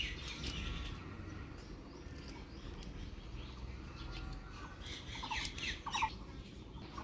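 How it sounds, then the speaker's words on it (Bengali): Mynas around a house give faint, scattered squawks and chattering calls, clustered mostly toward the end over a low background hum. "এদিকে শালিকে ক্যাচর মাচর করতেছে"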